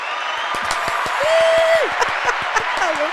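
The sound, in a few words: applause sound effect played on a podcast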